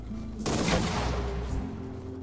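Gunshots fired in the video game 3 Minutes to Midnight: a loud burst of shots fills about a second midway through the clip, then fades back into a quieter game background.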